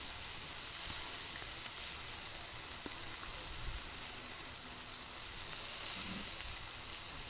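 Chickpea leaves are stirred into a hot, sizzling tempering in a pan, giving a steady, even hiss that lasts throughout, with a few faint knocks and no voices.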